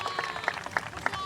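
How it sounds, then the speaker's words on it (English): Round of applause from an audience at an outdoor pier improvements completion ceremony, a short burst of scattered clapping with a few louder individual claps standing out. "I just want a nice round of applause for our Director of Planning and Development"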